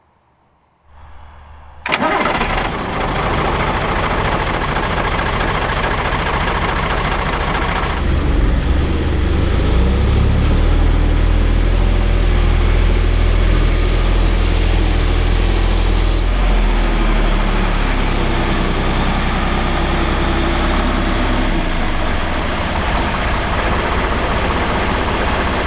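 A Magirus Deutz 170D11 truck diesel cranks and fires up, then runs loud and close for the rest of the clip, its rumble swelling as the throttle is worked and holding at a heavy, steady roar.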